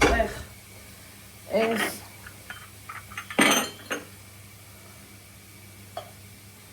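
Dishes and a frying pan clink and clatter in a home kitchen, with several short metallic knocks and rattles spread among a woman's nearby speech, fairly quiet overall.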